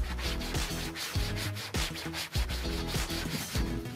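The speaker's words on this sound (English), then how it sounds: "you don't have to worry about hurting your hat by using the scrub brush on it" Scrub brush rubbing hard across the fabric brim of a Tilley hat: rapid, close back-and-forth scratchy strokes in a steady rhythm, loud and alone with no voices.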